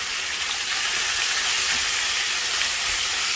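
Beef sears in a preheated pan with hot cooking oil over high heat: a loud, steady, hissing sizzle that runs without a break. No one talks over it.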